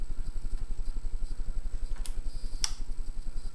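An SMC ceiling fan running at medium speed gives a low, rhythmic rumble with a fast repeating pulse from its bearings, steady and close, broken by two brief sharp clicks.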